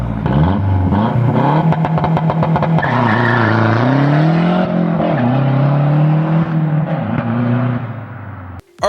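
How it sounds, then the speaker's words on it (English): A Mazda Speed 6 launches hard, its engine revving loud and near before tires squeal and the engine pulls up through the revs in a sustained roar, ending abruptly. "here's a clip of the Mazda Speed 6 doing a nasty launch"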